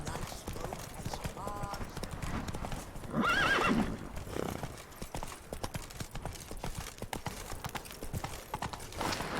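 Hoofbeats of Geralt's horse Roach galloping in The Witcher 3: Blood and Wine, a steady rapid clip-clop throughout with a brief whinny in the middle, over game music and background voices.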